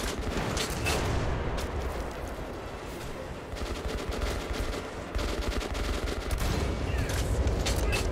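Gunfire in the video game Metro Last Light Redux while shooting off wheels, dense rapid bursts of automatic fire rattling continuously at high level, close and loud with no talking.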